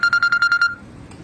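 A phone signalling an incoming call: a quick run of about seven evenly spaced electronic beeps, close and clear, that stops abruptly after well under a second.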